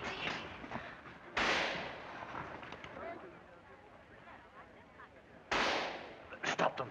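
Gunfire in a 1930s film battle scene: two sharp, loud blasts a few seconds apart, with a quick burst of smaller shots near the end, over a dense rumbling background with voices mixed in.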